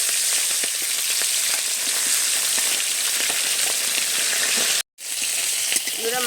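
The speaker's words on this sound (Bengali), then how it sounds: "এবার কড়াতে মাছের মাথাগুলো দিয়ে দিচ্ছি।" Tilapia fish heads fry in hot oil in a wok, giving a loud, steady, crackling sizzle that runs nearly unbroken, with one brief drop-out near the end before the spitting resumes.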